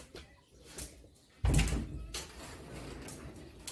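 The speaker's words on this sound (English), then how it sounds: "Close the door." A trained dog pushes a sliding door shut at home, a single sharp thud of the door meeting its frame, followed by a short rumbling tail; quiet room noise surrounds it, with no talking.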